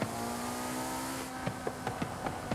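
A car in the Forza Horizon 5 racing game backfires with several sharp popping cracks at a steady rhythm, following a sustained engine drone that cuts off partway through.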